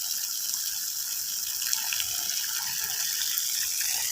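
Water runs steadily in a village yard, a continuous close gush and splash with no pauses and no voices.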